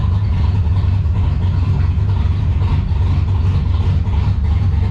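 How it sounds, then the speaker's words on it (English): A drift car's engine idles to warm up, a loud, steady, deep rumble that stays even and close throughout with no revving. "I'm just going to let this idle and get to temp"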